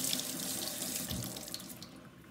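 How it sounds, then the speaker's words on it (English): Kitchen faucet water runs steadily into the sink, rinsing a Norwex dishcloth, a close, continuous hissing splash that eases slightly toward the end. "everything you've picked up is just going to be rinsed out with water"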